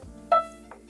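Dreame robot vacuum chiming its reboot sound after rooting, two short electronic tones, the first louder, heard close in a quiet room.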